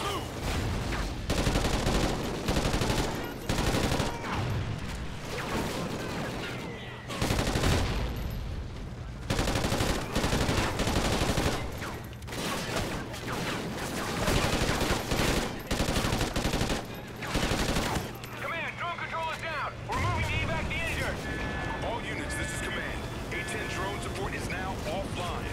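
Rapid bursts of automatic gunfire from the Call of Duty: Ghosts campaign, loud volleys broken by short pauses, with steady game ambience between exchanges.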